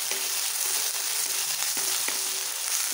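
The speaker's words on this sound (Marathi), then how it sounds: "थोडीशी मोहरी आहे, ती सुद्धा टाकूया।" Mustard seeds sizzle and pop in hot oil while leftover chapati khurma is cooked, a steady frying hiss broken by small, repeated crackles close up, with no voices.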